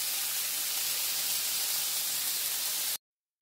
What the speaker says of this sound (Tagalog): So i-prito muna natin itong chicken.